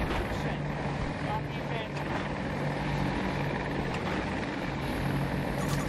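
An attack helicopter in Battlefield 2042, a steady engine drone and rotor hum held at even loudness throughout, with a player's voice talking over it.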